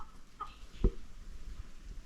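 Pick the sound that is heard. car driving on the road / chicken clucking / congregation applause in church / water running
chicken clucking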